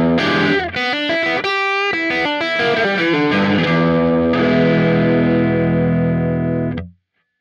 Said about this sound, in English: take a listen to the Marshall Plexi Classic plugin